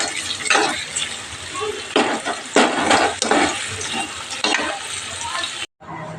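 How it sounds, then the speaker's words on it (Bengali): Nigella seeds, onion and chilli frying in oil in a wok, a hissing sizzle punctuated by repeated scraping stirs and clinks, ending in a sudden brief cutoff. "কড়াইতে তেল দিয়ে একটু কালো জিরে দিয়ে দিয়েছি আমি, দেখো, তারপরে পেঁয়াজটা লঙ্কাটা দিয়ে দিয়েছি"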